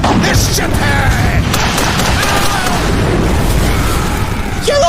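A film battle scene has a cannon blown up, with dense, continuous booming explosions and crackling bursts filling the whole stretch at high volume, mixed with distant shouting.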